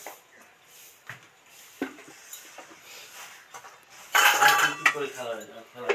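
Oil goes into a kadai or wok: light clinks and knocks of utensils on metal cookware, then a louder, rushing hiss as the oil hits the hot pan, heard close and without talk.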